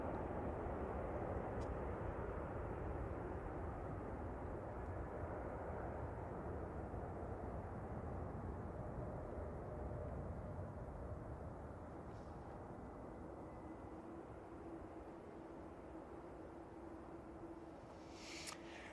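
A jet airliner departs Manchester Airport as a faint, distant broadband roar that holds steady and slowly fades, with no talk over it.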